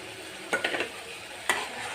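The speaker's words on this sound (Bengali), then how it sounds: "এখন সরিষাটাকে ভালোভাবে মশলার সাথে কষিয়ে নেব।" Mustard paste being stirred and fried with spices in a pan: a soft, steady sizzle broken by a couple of sharp scraping strokes of a spoon against the pan, close and fairly quiet.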